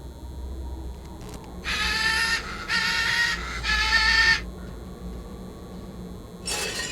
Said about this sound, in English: The parrot starts screeching the... A birdcage inhabited by a very lively parrot.